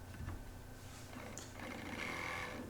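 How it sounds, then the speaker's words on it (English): A Milwaukee M12 Hackzall reciprocating saw cuts through 3/4 inch galvanized steel pipe, making a steady buzzing, rattling drone close to the microphone for the whole short stretch, with no talking. "this saw makes quick work of this 3/4 inch galvanized pipe"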